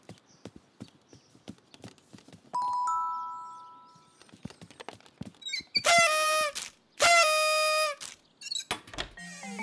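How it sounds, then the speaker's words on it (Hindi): Doorbell ding-dong in a Bing cartoon: two bright ringing chimes sound in the second half, after a rattle of clip-clopping taps and a short tone, with no talk. "क्या तुम घंटी नहीं बजाओगे बिंग?"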